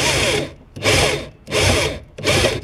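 Power drill boring holes to fit a tow bar on a Fiat Seicento, four loud bursts of whirring drilling in a steady on-off rhythm with short pauses between, close by and without talk.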